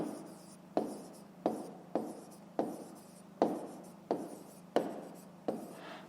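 Pen strokes on notebook paper during a fifth-grade maths exercise, about eight distinct scratchy bursts in a steady rhythm, close and clear with no talking.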